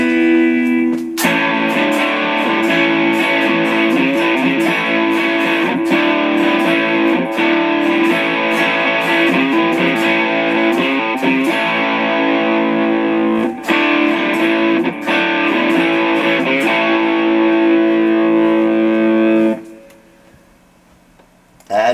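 Electric guitar played through a SAB Driver overdrive in Bias FX 2 software, giving a sustained, slightly phasey distorted tone with steady chords and notes, loud and continuous for about twenty seconds before cutting off.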